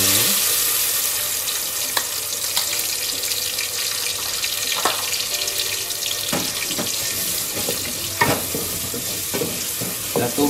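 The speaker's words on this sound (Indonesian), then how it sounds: "Kita tumis sampai naik bau dan sampai dia bumbunya kering ya" Spice paste sizzling in about three to four tablespoons of hot oil while being stirred for chicken curry with rice vermicelli, a steady dense crackle with intermittent scraping strokes close by, no talking.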